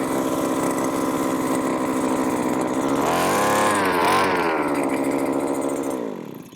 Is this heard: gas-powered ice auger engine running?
yes